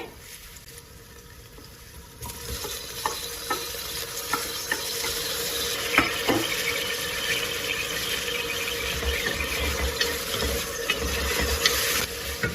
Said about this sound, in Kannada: ಇದಕ್ಕೆ ಹೆಚ್ಚಿಟ್ಟಂತಹ ಟೊಮ್ಯಾಟೊ ಹಣ್ಣನ್ನ ಸೇರಿಸ್ತಾ ಇದ್ದೀನಿ